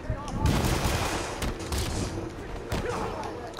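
Rapid bursts of enemy gunfire in the Marvel's Spider-Man video game on PS4, a dense, loud rattle of overlapping shots filling the whole moment with sharp cracks.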